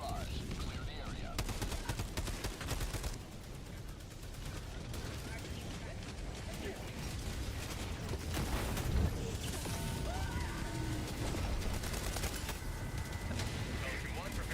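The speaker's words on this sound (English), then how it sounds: "Firing orbital barrage. Clear the area." Rumbling blasts and repeated booming impacts of an orbital barrage in the Helldivers 2 shooter game, rolling in bursts under game radio chatter and other voices, with mechanical clatter between explosions.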